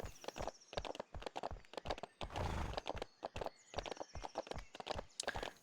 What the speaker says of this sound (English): The fact that it gallops after me is a little weird